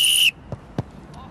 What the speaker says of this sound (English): Press ups on my whistle.